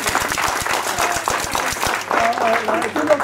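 Audience applause with a few close, distinct claps over a dense crowd clapping backdrop, continuing steadily while voices and music-like tones rise underneath toward the end.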